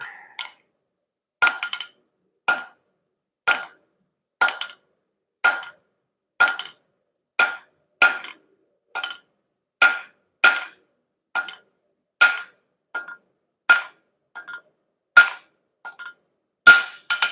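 Hammer blows on metal ring out against an anvil while making bottle openers and small forged gifts, a steady series of sharp, bright clinks about once a second, close and loud with nothing else underneath.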